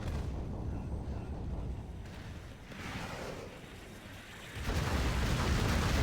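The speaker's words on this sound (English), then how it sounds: "look at those beautiful heavy explosions" Heavy in-game explosions in Rise of the Reds, a Command & Conquer Generals mod, boom as a dense, low rumbling barrage, fairly quiet overall with a sharper burst near the end.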